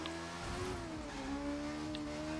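Suzuki motorcycle engine in the driving game The Crew 2, a steady loud drone with shifting pitch as it revs and settles, continuous for the whole stretch with no talk.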